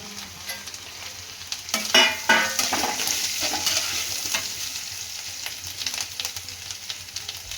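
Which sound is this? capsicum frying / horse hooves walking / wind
capsicum frying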